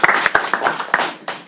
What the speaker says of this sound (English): Round of applause for Linda Kunith and her staff.